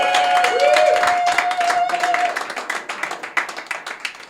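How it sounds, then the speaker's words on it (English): A stand-up comedy audience in Barcelona claps for a few seconds, the dense patter thinning out toward the end, with a faint tonal whistle early on. "You can clap all at once if you want."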